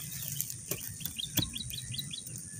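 A bird chirps in a quick run of short, high tweets over a faint background hum of insects.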